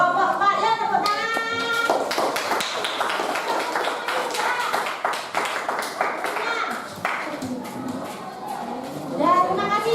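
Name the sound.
classroom applause for group 4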